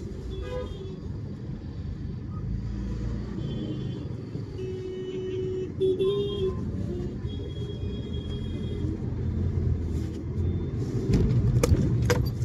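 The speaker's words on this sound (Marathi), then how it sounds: "मागून लगेच लोक हॉर्न वाजत होते" Car horns honk in short toots from vehicles stuck in heavy road traffic, over a constant rumble of engines, growing busier and louder near the end.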